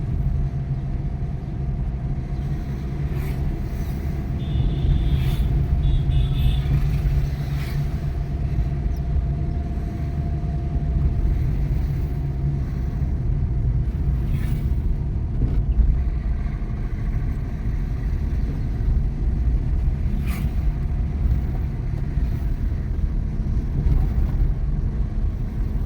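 A car descends the steep Kalhatti road on a hot day, with steady engine and tyre rumble plus some wind buffeting, a few brief higher tones and passing noises, and no talking.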